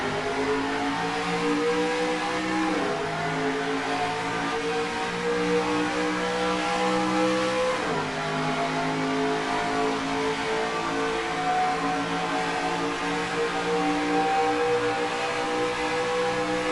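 A pack of race trucks roars at the start of an NFRN Truck Series playoff race in NASCAR Racing 2003 at Toronto Lakeshore, layered engine drones rising in pitch through the gears with steady whine and a shift midway.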